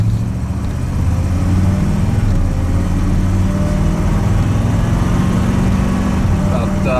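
Corvette engine pulling steadily under acceleration, a continuous loud in-car drone with a brief shift into third gear at around 2,800 RPM, engine note carrying on smoothly after.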